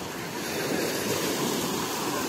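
Sea waves washing onto a beach at the Azov Sea in warm weather, a steady broadband rush of surf with faint wind, continuous and fairly loud with no voices.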